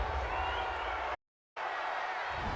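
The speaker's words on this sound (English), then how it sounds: "Crowd, they're happy with that call." Football stadium crowd at a Falcons–Packers game cheering a referee's call, a broad steady roar from thousands of fans that cuts out briefly to silence midway, then returns at the same level.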